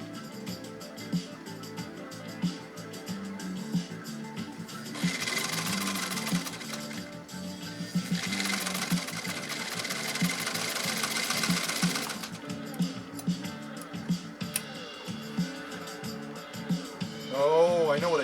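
A 1923 Singer 66-1 sewing machine runs in a workshop, laying a long stitch in two sustained whirring bursts with quieter mechanical clicks between them; a person speaks briefly in the gaps.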